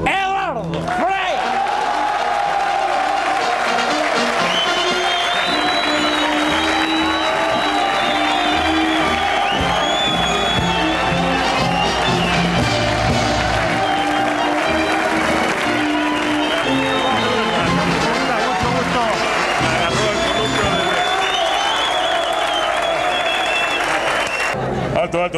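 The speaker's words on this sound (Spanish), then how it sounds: "Recibimos con un gran aplauso al señor Eduardo Frei." A studio audience on a Chilean TV show greets Eduardo Frei with big, sustained applause and cheering, a loud dense roar of clapping and shouts that stays strong throughout with a voice and music over it.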